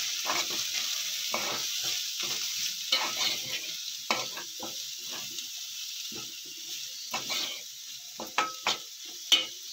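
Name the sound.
stirring cumin and coriander powder into a frying pan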